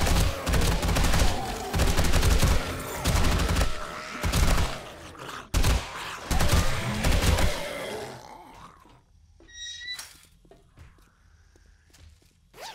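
An M60 machine gun fires in the video game 7 Days to Die, loud dense bursts of rapid shots repeating for several seconds with brief pauses, then stopping as quieter clatter, footsteps and a groan follow.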